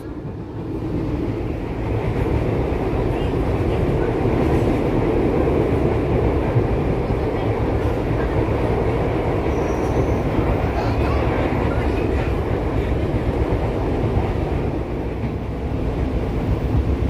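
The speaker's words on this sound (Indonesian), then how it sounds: "Saat ini kereta api Pramex ini sedang melintas di daerah Kalimenur." A Pramex passenger train rolls past near Kalimenur, a loud sustained rumble and rushing roar that holds steady for most of the stretch with no clear talk over it.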